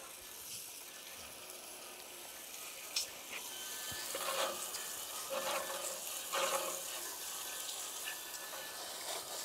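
Water splashes and sprays over a Swardman mower spindle as it is rinsed, a faint steady hiss with a few louder bursts and light rattling knocks, no voices.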